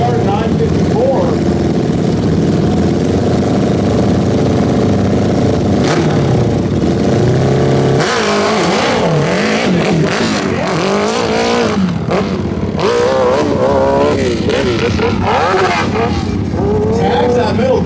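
A Honda CBR 954 motorcycle engine revs hard on a dirt hill climb at a knobby-tire event, the loud throttle rising and falling continuously while a commentator talks over it.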